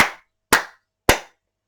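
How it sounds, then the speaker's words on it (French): Three single hand claps, sharp and dry, spaced about half a second apart in a quiet room, each decaying quickly into silence. "J'entends un claquement de main."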